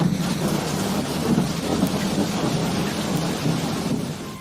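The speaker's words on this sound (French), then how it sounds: "Il pleut de plus en plus fort." Heavy rain pours steadily with deep rolling thunder rumbling underneath, continuous and loud throughout.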